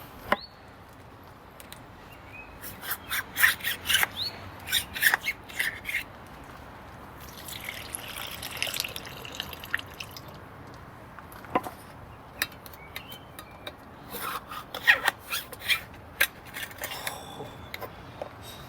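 A Benchmade Contego 810 folding knife slices into a thin metal can, giving a run of short scraping, crinkling cuts and sharp metallic clicks, close and fairly quiet, with no talking.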